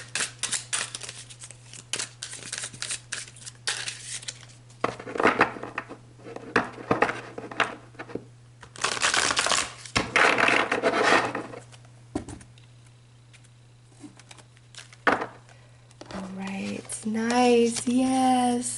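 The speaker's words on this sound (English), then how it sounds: "let me just shuffle the cards" Tarot cards are shuffled at length, near and moderately loud, in bursts of papery riffling and slapping with short pauses between, and a voice comes in near the end.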